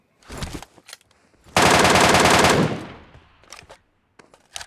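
MK14 rifle firing on full auto in PUBG, a dense burst of rapid shots lasting about a second, loud and close, framed by a few single sharp shots before and after.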